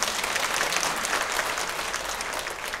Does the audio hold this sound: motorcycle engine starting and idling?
no